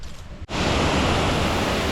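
Small waterfall at Murukeba Falls near Moni on Flores, Indonesia, a steady close broadband rush of falling water that fills the clip after a brief dip at the start.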